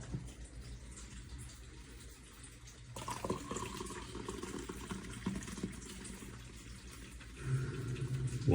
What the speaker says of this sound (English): Pouring coffee.